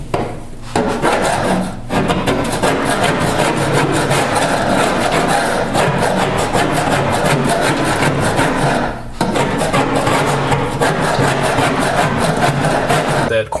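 Coarse abrasive like 36 grit sandpaper rubbing back and forth on car body metal during dent repair on a Javelin, a loud continuous rasping scrape with two brief pauses.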